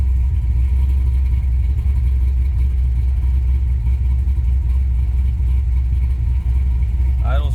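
A 1968 Chevelle with an LS2 V8 and Tremec five-speed rumbles at a steady, loud idle, a deep continuous low drone close to the microphone, with a brief rise near the end and a voice faintly underneath.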